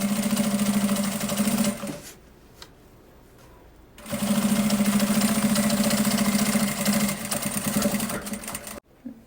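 A sewing machine stitches a fabric pocket onto a marked line while making a cosmetic pouch, running in two steady bursts of close, loud mechanical whirring split by a short pause, with a final brief burst at the end.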